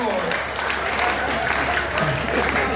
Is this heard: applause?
yes